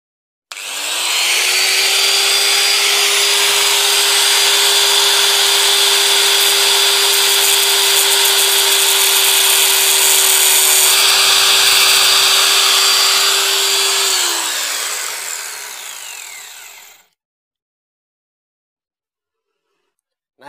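Power tool cutting into a Grand motorcycle's magneto rotor, a loud, steady high-pitched grinding whine holding for about fifteen seconds before spinning down, with no talk over it.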